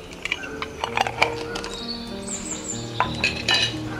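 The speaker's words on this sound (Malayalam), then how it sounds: "നന്നായിട്ടൊന്ന് ഇളക്കി കൊടുക്കാം." A spoon stirring snake gourd (padavalanga) curry with chana dal in a metal pot, giving repeated clinks and scrapes against the pot sides at an irregular pace, close and fairly clear, with no talking.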